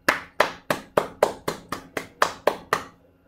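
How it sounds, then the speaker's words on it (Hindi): Eleven sharp hand claps in a steady, even rhythm, close and crisp, each with a short decay, heard alone without any talk. "इसमें तो मैं ताली मारता हूँ"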